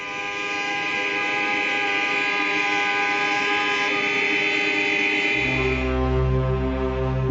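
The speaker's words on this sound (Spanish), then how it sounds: "Después protestan a bocinazos." Car horns blaring in protest on a street in Berlin, a loud sustained chorus of overlapping honks that holds steady, with a deeper horn blast joining toward the end.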